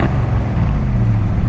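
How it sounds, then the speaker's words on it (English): A 1968 Ford Mustang with a 289 V8 rumbles loudly through dual exhaust, a deep, steady, close engine roar being revved without any talking. "Go ahead and rev it up, Nolan."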